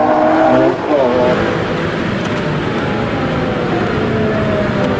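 A Ferrari Enzo braking hard with carbon-ceramic brakes, its loud, close engine note dropping steadily in pitch over several seconds as it decelerates, with tire noise underneath.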